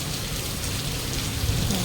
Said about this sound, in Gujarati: ચાલો વરસાદ આવ્યો